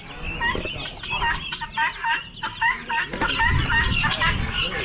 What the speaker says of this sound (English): So a cochin hen who hatched out some babies.